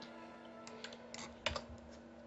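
A few scattered keystrokes on a computer keyboard while a message is typed, faint, quick clicks in small bursts over a low steady hum.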